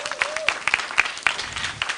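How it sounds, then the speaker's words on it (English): An audience applauds a panel at an international symposium on illicit alcohol and drug abuse in Kenya. The clapping is dense and uneven, with sharp individual claps standing out, and a faint tonal whistle-like sound near the start. "let's give them a better clap than we did"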